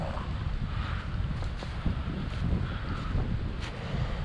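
A strong, chilly wind blows outdoors, making a steady, loud rumbling roar that buffets the microphone throughout with no let-up.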